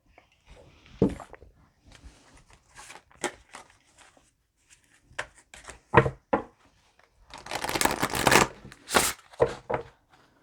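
Tarot cards being shuffled in several quick riffling bursts, with short pauses between, the longest and loudest burst near the end; close and fairly crisp.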